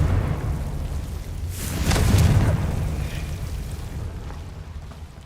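Confringo blasting spell explosion in Hogwarts Legacy, a single whooshing burst swelling to a booming blast around the middle, over a steady low ambient rumble that slowly fades.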